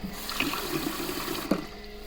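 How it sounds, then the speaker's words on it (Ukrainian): Water running steadily from a pump powered by a small home solar station, a soft continuous trickle and splash with a few brief louder splashes, fairly quiet and without talk. "Там у нас насос і у нас біжить вода."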